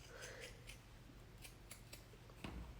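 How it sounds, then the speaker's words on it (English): Fiskars scissors snip through fabric and zipper tape in a run of quick, crisp cuts, several close blade clicks spaced about a quarter second apart, fairly quiet over a steady background hiss. "these Fiskars scissors usually can shoot through most things"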